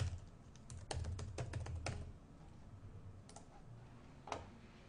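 Keys on a computer keyboard tapped in a quick, uneven burst while a password is entered, followed by a pause and a couple of isolated clicks, close and fairly quiet.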